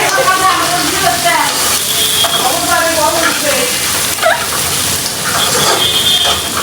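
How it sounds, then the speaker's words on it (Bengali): Onions frying in a pan as they brown, a loud, steady sizzle with stirring scrapes running throughout. "এখন পেঁয়াজটা ব্রাউন কালার হবে"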